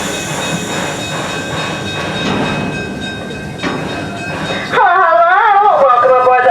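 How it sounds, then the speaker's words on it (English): Omaha Zoo Railroad train running with a steady rumbling clatter, then a strong tonal whistle or horn sounding near and loud toward the end. "All I heard was the train sounds."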